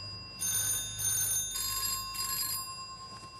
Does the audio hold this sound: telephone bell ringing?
yes